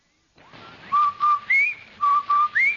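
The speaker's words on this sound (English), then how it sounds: "That's the Rinso White whistle." The Rinso White two-tone whistle from a radio show, repeated in short phrases: steady low notes then a rising upper note, twice over, clear and close with no talking.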